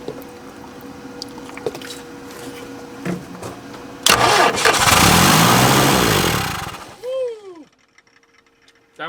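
A 1980s Yale/Eaton forklift engine cranks and catches, then roars at high revs for a couple of seconds before winding down and dying away, loud and close.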